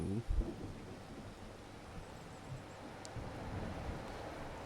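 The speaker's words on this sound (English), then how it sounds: "We need to speed up the time so we can get that rain out of the way." A low, rumbling thunderstorm with rain in a farming video game set in Riverbend Springs rolls on steadily at moderate volume, with a brief thump near the start and no talking.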